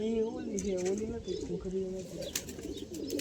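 Pigeons cooing as they bathe, in Kutch: low, wavering coos repeat steadily, close by, with chatter and other noises mixed in.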